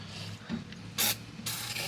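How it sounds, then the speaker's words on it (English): Short hissing bursts of PB Blaster penetrating oil sprayed into the cylinders of an FZR600 motorcycle engine in a garage, two distinct sprays amid light mechanical handling noise. "I'm going to go ahead and spray the inside of the cylinders with PB Blaster."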